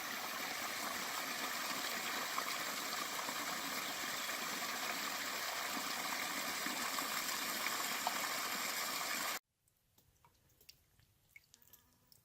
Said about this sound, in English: Here we are at the second little waterfall in La Madre Mountain Springs.